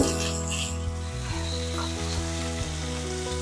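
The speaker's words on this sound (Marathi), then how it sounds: "इथे मी पॅनमध्ये एक चमचा तेल ॲड केला आहे यामध्ये ॲड करू कांदा टोमॅटो" Onion and tomato sizzling in a spoonful of oil in a pan, a steady, close frying hiss running under a prominent sustained humming tone.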